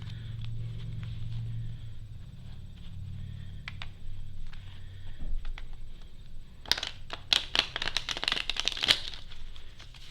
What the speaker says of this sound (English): Just try to shuffle the best you can.